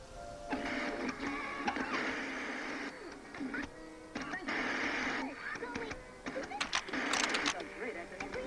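Bolts being loosened on a machine in the video game Biomutant: a mechanical whirring and buzzing drone that swells and drops in several long bursts, steady and fairly loud, with no talking.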